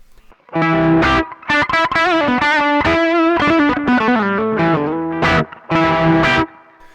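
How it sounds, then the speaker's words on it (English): Overdriven electric guitar played with the volume knob backed off, giving a milder crunchy distortion; loud sustained chords and notes ring out in bursts with short gaps, alone without talk. "So just by backing up from the volume there, we get some nice sort of overdriven tones that are less extreme"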